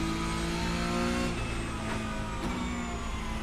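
A Porsche Cup race car engine in the video game iRacing revs hard at close range with a steady high whine, easing briefly then pulling again, with other cars nearby.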